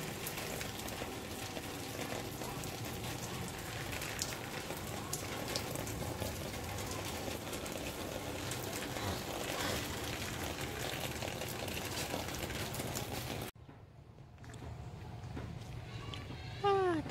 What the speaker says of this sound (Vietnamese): Nắng mà mưa.